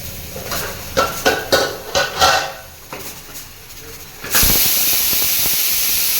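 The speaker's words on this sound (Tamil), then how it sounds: "ரெண்டாவது விசில் வந்துருச்சு அடுப்பு ஆஃப் பண்ணிக்கலாம்" A kitchen pressure cooker cooking goat leg gravy sounds its second whistle: a few rhythmic puffs of escaping steam, a lull, then a loud sustained hiss of venting steam that continues steadily to the end.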